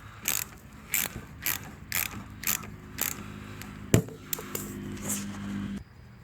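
A ratchet with an 8 mm socket snugs bolts down during removal of a Dodge Ram 1500 4.7L engine, giving repeated quick clicking bursts in an irregular rhythm, close by, with a sharper metallic clank near the middle.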